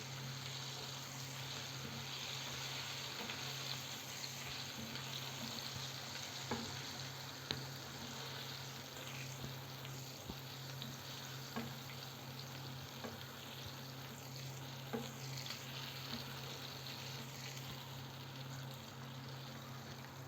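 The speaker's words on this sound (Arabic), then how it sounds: "نخليهم كده نفضل نقلبهم لغايه لما كلهم يبقوا نفس اللون" Shrimp sizzle steadily in hot oil in a frying pan, a continuous close frying hiss with occasional faint clicks and taps as the pieces are turned, no talking.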